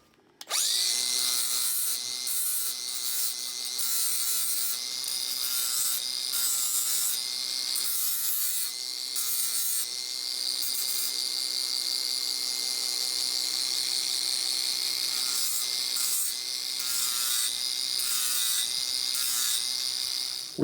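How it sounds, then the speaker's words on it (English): Power tool grinding or wire-wheeling paint off a steel bracket for a DeWalt rolling miter stand, a loud, steady abrasive whine with a rough rasp that runs continuously for about twenty seconds with no talk. "I'm going to remove some paint so I can weld this on."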